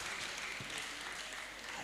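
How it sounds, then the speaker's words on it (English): Women at an award lecture event clap steadily throughout, a faint, dense wash of applause heard from a distance. "please clap very well"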